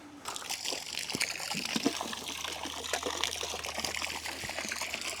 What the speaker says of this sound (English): I might put the hose in now, which is further diluting the water.